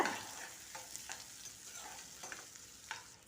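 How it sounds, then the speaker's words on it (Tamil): Sliced onions and a few garlic cloves sauté in a pan, giving a soft, steady sizzle broken by occasional scraping stirs of a spoon, quiet and close with no voices. "இது கூடவே ஒரு நாலஞ்சு பல் பூண்டு சேர்த்து இதை லைட்டாக அப்படி வதக்கி விட்டுக்கோங்க"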